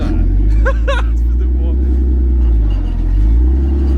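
A Dodge 4x4 WC-51 military truck with open exhaust idles and creeps in first gear, a loud, deep steady engine rumble close by, with a voice briefly over it.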